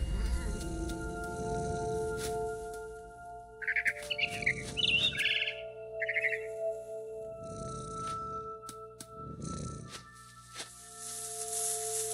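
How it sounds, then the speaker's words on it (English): A barn swallow in the game What Remains of Edith Finch gives short bursts of high chirps in a few clusters, over a quiet ambient tone with soft low rumbles between calls. "Then I heard chirping outside my window. It was a barn swallow going back to her nest."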